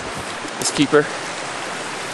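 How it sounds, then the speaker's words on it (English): A steady broadband wash of flowing creek water from winter runoff fills the scene, with a brief spoken voice rising over it for a moment. "I got a little creek we gotta cross up here."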